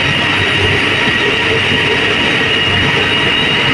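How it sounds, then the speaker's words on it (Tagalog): Train in Kuala Lumpur, Malaysia, a loud, continuous rolling roar with a steady high-pitched wheel squeal carried over the whole stretch, heard from close by. "Yung kahaba ng train nila."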